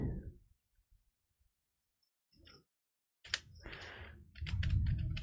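Typing on a computer keyboard during a CSS coding lesson: a few faint isolated clicks, a pause, then close bursts of rapid keystrokes with no talking.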